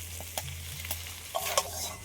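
Capsicum, carrot, potato, onion and egg fry and get stirred together in a pan for chowmein: a steady close sizzle with a low hum underneath, broken by a few sharp scrapes and clacks of the spatula, with no talking.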